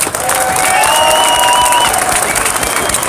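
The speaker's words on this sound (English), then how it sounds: "Give him a big round of applause." A rally crowd at a gun rights event in Ohio applauds a speaker, steady, loud clapping with some cheering and whistles throughout.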